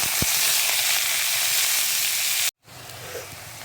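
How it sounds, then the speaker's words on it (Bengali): Bay leaves and dried chillies hitting hot oil give a loud, dense sizzle that cuts off abruptly, then onion joins in with a quieter frying hiss, close up and without talk. "এরপর তেজপাতা আর শুকনো লঙ্কা দিয়ে দিলাম তেলের মধ্যে।"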